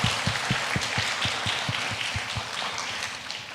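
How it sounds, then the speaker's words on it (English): Applause from a conference audience at a university vocational school event, a room of clapping with distinct sharp claps standing out over a softer wash, gradually thinning. "please give a round of applause for Professor Margo"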